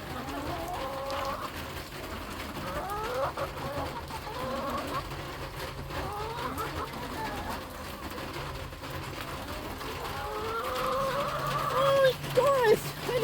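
Chickens cluck and murmur nearby on a wet day, a steady chorus of soft clucks and warbles with a few louder calls toward the end over low background noise.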